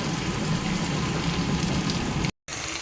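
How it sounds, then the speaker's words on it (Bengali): Pieces of food, likely pomfret being readied for tandoori, frying lightly in a pan with a dense, steady crackle and spatter close by, cut off abruptly by a brief silence before resuming, no voices. "এবার এটা হালকা হালকা করে ফ্রাই হোক।"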